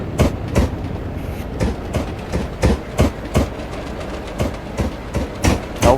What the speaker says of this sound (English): It's 37409 in Regional Railways with the ScotRail brand.